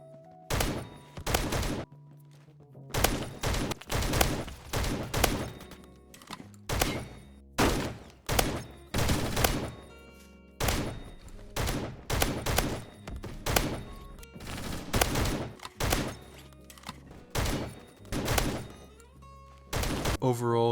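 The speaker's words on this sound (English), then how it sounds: "the last gun we're going to be talking about is the SCX-12," In the video game Phantom Forces, an SCX-12 shotgun fires repeatedly, producing loud, sharp blasts in irregular bursts with short gaps between them throughout.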